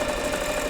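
A sewing machine runs in a steady, even motor hum with a fine rapid vibration, sustained without a break for a brief moment.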